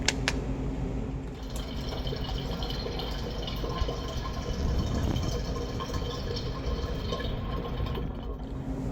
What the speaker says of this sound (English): I've poured the water in